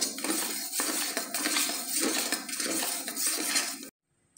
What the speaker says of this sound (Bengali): আমি চামচ দিয়ে ফেটিয়ে নেব।